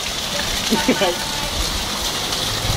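Heavy rain and floodwater gush steadily along Avenida Santa Teresa at night, a broad continuous wash with a few faint voices briefly rising over it.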